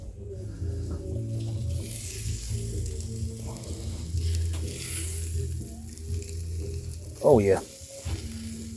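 Steak sizzles on an outdoor grill in wet weather, a steady frying hiss that runs throughout at moderate level, with a brief voice near the end.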